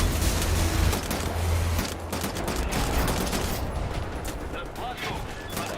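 Dense, rapid automatic fire from an MP 44 assault rifle in the shooter game Wolfenstein: The New Order, loud sustained bursts with mechanical clatter, while a person talks over the action.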